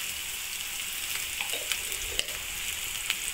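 Steady, fairly soft frying hiss from a pan being sautéed for a breadfruit kondattam, with occasional faint clicks and light stirring taps close by.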